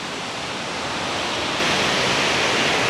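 Big Falls, the largest single drop on the Big Duck River in Tennessee, roars as a steady broadband rush of falling water that swells louder midway, with no voices.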